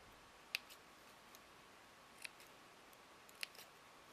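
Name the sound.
scissors trimming fabric applique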